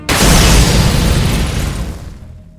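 A radio blows up in the Source-engine game Underhell, a loud explosion bursting out sharply and then rumbling down into a fading tail over about two seconds, heard alone.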